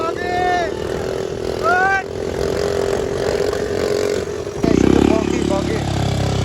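A buggy engine revs loudly nearby with a rough, uneven drone, then a sudden harsher burst of misfiring near the end, while people talk over it.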